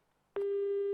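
After a faint click and brief hiss, a loud steady telephone tone starts abruptly as a call is hung up, holding on one pitch.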